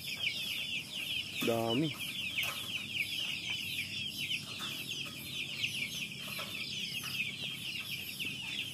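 Young 45-day-old chickens cluck in a pen, with a brief louder fowl call early on and steady faint clucking and bird chatter throughout, with a voice speaking briefly.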